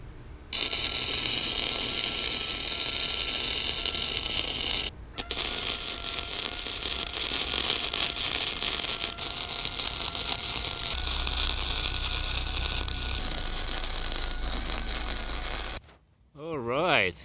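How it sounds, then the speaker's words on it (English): Welding a rear recovery point onto a Nissan Xterra: a loud, continuous crackling buzz that runs in long bursts with brief pauses, ending in a short cutoff and some handling noise. "and then I'm gonna start welding this"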